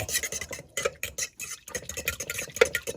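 A utensil stirs pizza dough as warm water is slowly added in a bowl, making quick irregular scraping and clinking strokes close by.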